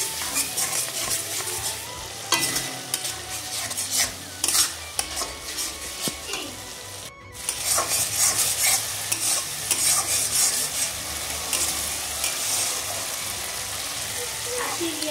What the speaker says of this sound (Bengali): মশলাটা প্রায় কষানো হয়ে গেছে